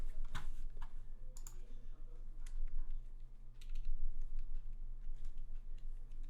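Typing on a modded KBD67 MKII mechanical keyboard fitted with a Sorbothane plate mod gives a steady run of close, crisp keystroke clacks over a low hum, with a few louder taps and no voices.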